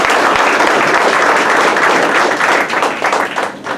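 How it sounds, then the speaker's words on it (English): Steady, dense applause from a banquet hall audience at a senior sports awards dinner, loud and continuous throughout, tapering slightly near the end. "So another hand of applause for them,"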